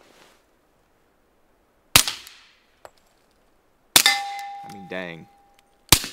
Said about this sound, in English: you can hear it snapping through wood